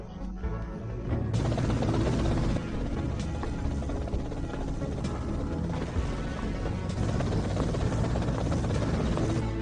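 A helicopter in the GTA Vice City video game drones with a steady, loud rotor throb and engine whine that fills the whole stretch without pause, with game music or mechanical noise mixed in and no speech.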